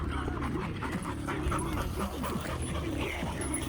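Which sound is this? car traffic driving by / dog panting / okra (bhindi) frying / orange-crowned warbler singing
dog panting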